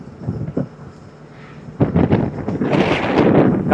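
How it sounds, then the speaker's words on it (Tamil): Strong wind roars and buffets the microphone in loud broadband gusts, building sharply toward the end with no voices over it. "காற்று நல்லா அடிக்குதுங்க அந்த பக்கம்."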